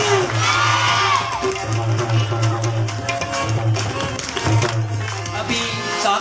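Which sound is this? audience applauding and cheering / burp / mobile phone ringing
audience applauding and cheering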